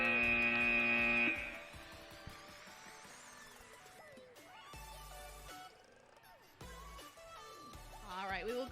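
A loud, steady buzzer sounds for just over a second at the close of an aerial drone competition match, then cuts off, followed by softer venue noise and an announcer talking.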